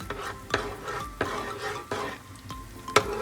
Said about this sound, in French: avec une petite cuillère, on va mélanger tranquillement